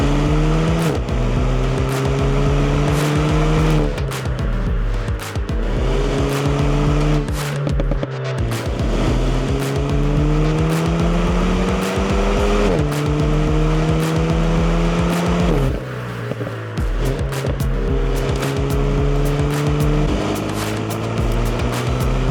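Renault Mégane RS Ultime driven hard on a track, its engine loud and close as it climbs through the revs, dips on each upshift and pulls again in repeated cycles with no talk.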